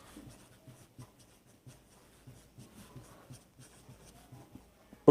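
A theorem is written on a board, with soft, irregular taps and strokes of chalk in short bursts, faint and close, with no talk.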